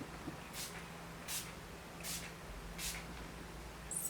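Four short, soft spritzes of a facial mist spray, evenly spaced and quiet, over a faint background hum.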